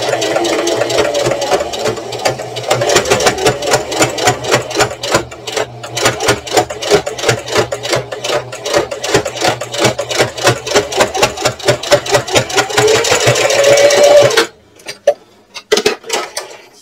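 A sewing machine stitches a purse through many layers with a 1/8 inch seam allowance, a steady rapid mechanical chatter of needle strokes running for about fourteen seconds before stopping, followed by a few short separate clicks.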